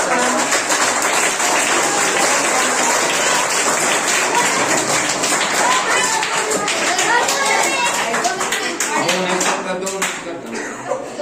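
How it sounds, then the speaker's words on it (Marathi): A quiz show audience applauds loudly and continuously, with dense clapping mixed with crowd chatter and voices throughout before it thins slightly at the end. "टाळ्या वाजवा."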